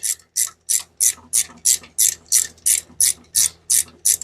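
Ratchet wrench snugging down a bolt on an alternator bracket of a big-block 1983 Foxbody Mustang GT, a steady run of about a dozen evenly spaced clicking strokes, close and clear.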